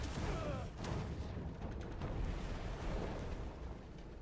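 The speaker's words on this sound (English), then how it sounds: "Can you shoot the cannon?" Cannon fire in the video game Crimson Desert, a dense continuous rumbling blast with heavy low boom and crackling debris, loud and sustained throughout with no clear talking.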